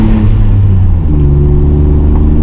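Inline-six of a BMW 525i E34 with manual gearbox and sport exhaust pulling hard, a loud, close, throaty drone with rising harmonics for a couple of seconds, no voices.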